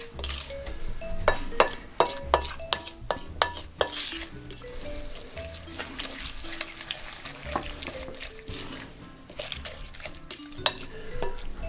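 Grated carrot strands and sugar are stirred in a bowl, producing soft wet scraping and repeated utensil clinks against the bowl in an irregular rhythm, with no talking.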